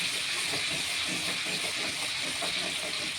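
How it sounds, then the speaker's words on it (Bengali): Chopped garlic fries in oil in a pan, giving a continuous, even sizzling hiss up close with no speech over it. "রসুনগুলো হালকা লাল লাল করে একটু ভেজে নিতে হবে।"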